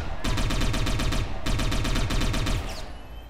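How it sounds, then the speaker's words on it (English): Rapid automatic gunfire in the video game Satellite Reign, two loud sustained bursts of evenly spaced shots separated by a brief gap, with a faint trailing echo. "right-click on this guy to shoot him"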